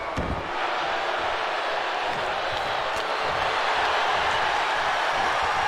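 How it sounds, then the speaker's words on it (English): Wrestling arena crowd in WWE 2K22 cheering and roaring steadily throughout a Roddy Piper match, a dense continuous wash of noise with occasional louder swells. "The crowd here tonight getting behind Roddy Piper."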